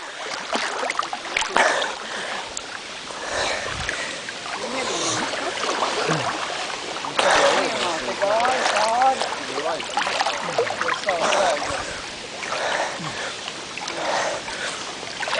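Water sloshing and splashing around a small boat, with voices talking nearby throughout.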